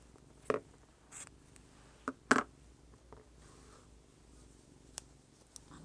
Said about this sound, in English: I'm just going to trim the yarn